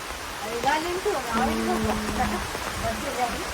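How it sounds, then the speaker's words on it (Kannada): Rain falls in a steady, even hiss, with people talking over it. "ಮಳೆ ಬರ್ಲಿ ಬಂತು ಮಳೆ"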